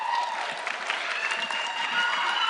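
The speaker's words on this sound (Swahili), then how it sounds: "Haya, pigia makofi gavana." Audience of local chiefs at a county security forum in Nyandarua clapping for the governor, steady dense applause sustained throughout at even loudness.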